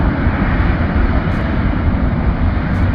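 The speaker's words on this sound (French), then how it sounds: "Le bruit que vous entendez de ce volcan." Deep, steady roar from the Mount Bromo volcano crater in Java, Indonesia, a continuous loud low rumble with no break and no voices.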